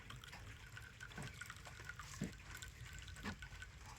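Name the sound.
herbal hair juice being strained through a sieve into a bowl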